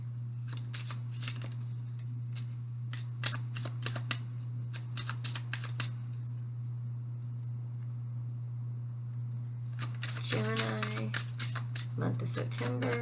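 Tarot cards being shuffled in quick riffling bursts, a rapid run of crisp flutters with short pauses between them, over a steady low hum, with a voice speaking near the end.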